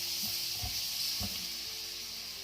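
Tomatoes with salt sautéing in a pan for tadka dal, a continuous soft sizzle and hiss with a couple of dull stirring knocks, close and steady throughout, no voices.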